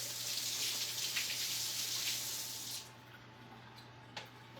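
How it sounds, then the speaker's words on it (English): Running tap water in a home kitchen sink while hands are rinsed, a steady broad hiss of flow that drops off partway through, leaving a quieter room tone with a couple of faint splashes. "I'll have to rinse my hands."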